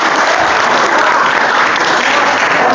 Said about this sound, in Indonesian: terima kasih Abi, tepuk tangan